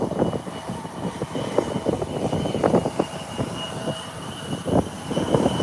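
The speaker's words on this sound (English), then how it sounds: "So there you have two aircraft on the runway all at once." Two aircraft sit on the runway at once, taxiing with a steady engine drone under irregular clunks and rumbles, moderately loud with no voices.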